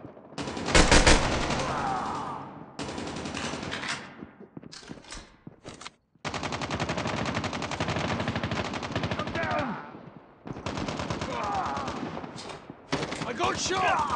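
Bursts of automatic gunfire in Call of Duty Mobile, loud sustained rattling volleys broken by short gaps, with one sharp louder blast near the start.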